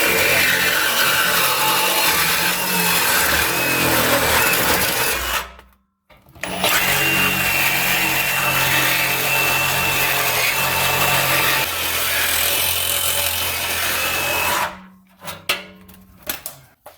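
Power saw cutting through an old exhaust pipe on a four-door car during a cat-back exhaust install, a loud continuous grinding rasp that stops briefly midway, then resumes before ending in short bursts.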